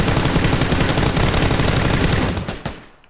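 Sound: gunfire in PUBG video game

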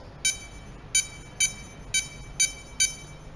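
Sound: Eproer RFID password locker lock beep

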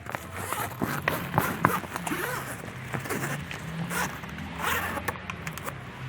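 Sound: zipper of car trunk urethane window being closed and pulled up

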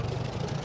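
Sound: tractor engine in video game ARMA 2 DayZ

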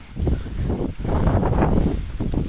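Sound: strong wind

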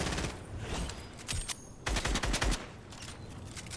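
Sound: gunfire in the Fortnite video game

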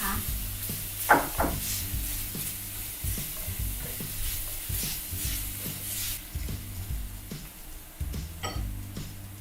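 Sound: garlic stir-frying in oil in a deep pan

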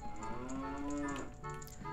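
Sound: cow mooing in video game Ocarina of Time

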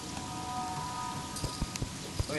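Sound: rain in Terraria video game

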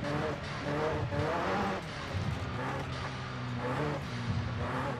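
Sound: car driving on dirt in Forza Horizon 5 video game

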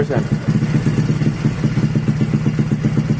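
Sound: car engine running rough

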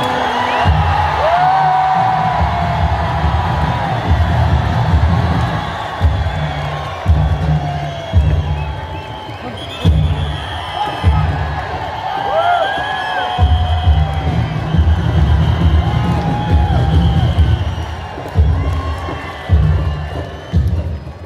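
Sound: crowd shouting and applauding at Wagah border ceremony

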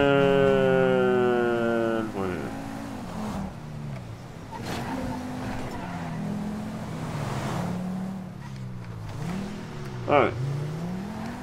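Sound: car engine revving in video game GTA V

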